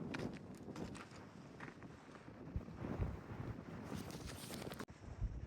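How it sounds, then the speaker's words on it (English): Strong wind buffets the microphone continuously on the high mountain pass at Cinnamon Pass, a loud steady roar with gusty swells and a few brief thumps, no talk. "very windy"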